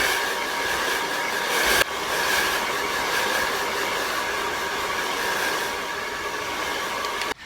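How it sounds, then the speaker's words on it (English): An Ion hairdryer blows steadily to dry glue on eyebrows, a loud, even whooshing hum with a faint whine, briefly cutting out near the two-second mark and stopping at the end. "we're gonna dry those eyebrows completely with this Ion hairdryer I got at Sally Beauty"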